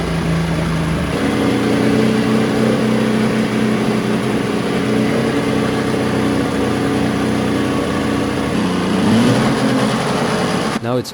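A $50 three-cylinder Volvo Penta marine engine running after repair, a loud steady close-up drone with a slight rise and dip in pitch near the end, then it stops abruptly.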